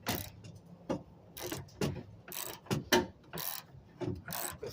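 The spare tyre of a GMC Canyon pickup being lowered with a ratcheting winch mechanism, giving close, faint clicks and creaks in uneven bursts.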